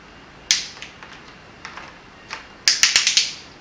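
A solar connector spanner tightens a solar panel connector, giving a few sharp isolated clicks followed by a quick run of five crisp ratcheting clicks, close and distinct against a quiet background with no talking.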